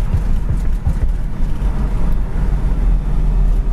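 A 1968 Ford Mustang on a test drive gives off a steady low engine rumble and road noise from inside the cabin, loud and continuous, with no voices.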